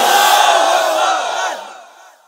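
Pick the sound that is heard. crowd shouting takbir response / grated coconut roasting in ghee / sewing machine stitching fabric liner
crowd shouting takbir response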